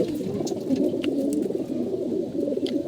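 Pigeons coo in a continuous, overlapping murmur of soft throaty calls, fairly close and steady, with a few faint higher chirps above.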